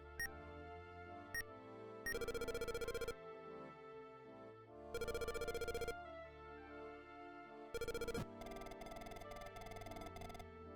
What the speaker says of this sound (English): Yasu answers Toshiyuki's phone and intercepts a meeting scheduled at the port.